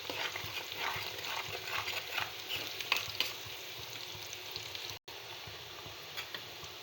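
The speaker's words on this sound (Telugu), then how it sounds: "పసుపు ఈ రెండు వేసుకోవడం వల్ల ఆనియన్స్ త్వరగా మగ్గిపోతుంది బాగా మిక్స్ చేసుకున్నాం" Onions frying with salt and turmeric in a pan, stirred steadily, give a continuous close sizzle with scraping textures throughout and a brief break near the end, and no talking.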